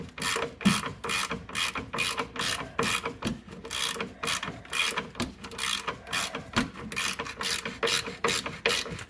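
A ratchet wrench tightens a subframe bolt on a 2005 Ford Escape, its pawl clattering in quick, evenly repeated strokes that sound close and loud.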